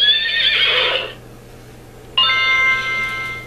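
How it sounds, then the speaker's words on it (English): A children's electronic toy plays a horse neigh: a loud, shrill whinny lasting about a second, a brief pause, then a second clear, bright neigh. "A horse makes this sound."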